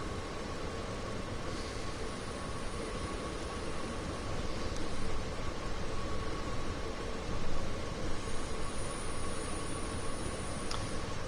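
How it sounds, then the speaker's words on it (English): A train standing in a station in the Train Sim World railway simulator gives a steady, even rumble with broadband hiss and a faint constant tone, continuous throughout with no talk. "There's another train in the station."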